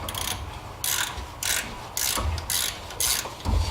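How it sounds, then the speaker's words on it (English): A ratchet with a 6mm Allen bit loosens the coil pack bolts on a Honda J-series V6, giving six or seven close, loud bursts of rapid clicking separated by short pauses, with no talking. "grab the 6mm Allen and loosen up all the bolts that hold on the coil packs"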